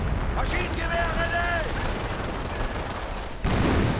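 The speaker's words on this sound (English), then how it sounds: "More artillery going in." Artillery barrage and gunfire in a WWII real-time strategy match, US forces against Wehrmacht, with dense rumbling blasts and crackling shots filling the whole stretch and a fresh heavy impact near the end, under a commentator's voice.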